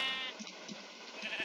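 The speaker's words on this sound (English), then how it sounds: "A brown sheep, that's kinda rare." A sheep in the video game Minecraft gives short, soft bleats, quiet and slightly wavering, over faint background game ambience.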